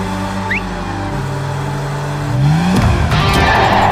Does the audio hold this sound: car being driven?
yes